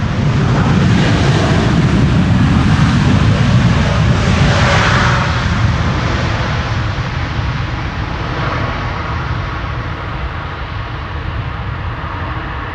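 A KLM airliner landing at Amsterdam Schiphol on runway 18R with thrust reversers applied gives a loud, close, roaring jet rush that swells and then slowly fades while staying heavy throughout.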